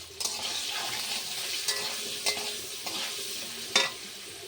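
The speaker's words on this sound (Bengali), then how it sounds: "আর একটু লবণ দিয়ে আমি আলুগুলো ভেজে নেব।" Steady hissing sizzle of potatoes with turmeric and salt frying in a pan, with a few brief scraping stirs breaking through now and then.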